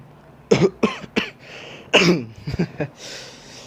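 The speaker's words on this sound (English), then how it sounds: "that was just one cough" A person coughs several times in close, harsh bursts with short gaps between them, loud and near, with no talking over it.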